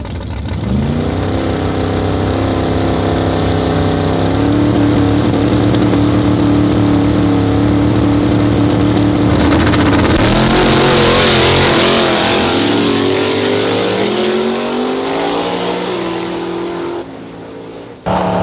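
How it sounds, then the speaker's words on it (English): A brand-new drag radial race car with a twin-turbo 518 cubic inch Noonan Hemi and a five-speed Liberty gearbox runs loud and close, its engine note droning and climbing in pitch through gear steps before fading out near the end. "Andy Coles, what did we say, 518 odd cubes of Noonan Hemi, twin turbo, 5-speed Liberty gearbox, brand new car"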